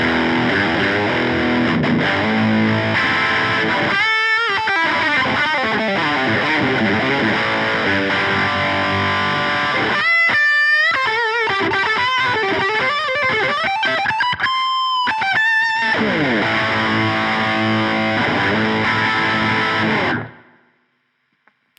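Electric guitar through two stacked amp-in-a-box overdrive pedals, a long stretch of loud distorted chords and riffs with brief breaks, ending in a quick fade to silence.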